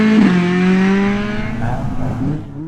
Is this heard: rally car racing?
yes